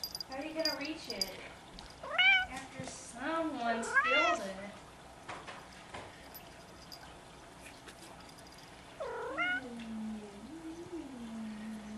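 Three-week-old kittens meow in high, rising cries, bunched in a busy run at the start and a few more near the end, fairly close with quiet gaps between.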